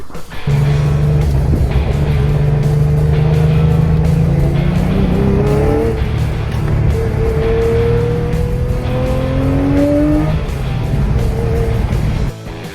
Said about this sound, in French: La Porsche 911 type 996 GT3, c'est la première GT3 de l'histoire. C'est aussi la première GT à ne pas disposer d'un moteur turbo.